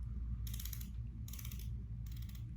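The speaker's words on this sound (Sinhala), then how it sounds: "මේ උඩ තියෙන wheel එක අපිට කරකවන්න පුළුවන්." Three bursts of fine clicking come from turning the top crown wheel of an AW12 Pro smartwatch styled like a Rolex, each lasting about half a second over a low background hum.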